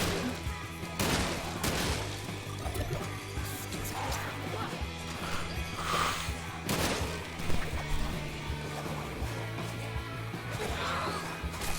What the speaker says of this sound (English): I should probably just start shooting things.